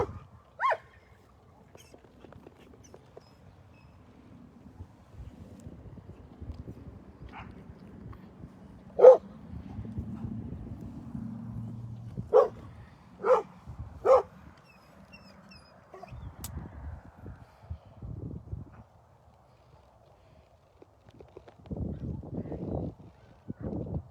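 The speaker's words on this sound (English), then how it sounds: "all you see is Bear over here barking at them." A dog barks outdoors in a few sharp, separated bursts, with several quick barks in a row, over quiet background and some rustling and movement.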